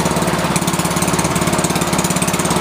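A Honda HRS21 push lawn mower engine runs steadily and loudly up close, its small single-cylinder putter pulsing in an even, rapid rhythm throughout.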